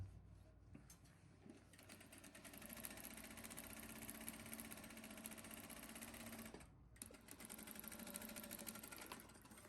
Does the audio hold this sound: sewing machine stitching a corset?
yes